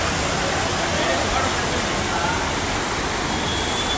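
Floodwater in Chennai rushes past in a dense, steady broadband roar, loud and continuous with no breaks, like a fast-flowing torrent close by.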